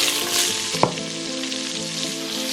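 Vegetables sizzle steadily in an Instant Pot on the saute setting with steak drippings, a close continuous frying hiss with one sharp stirring knock and no voices.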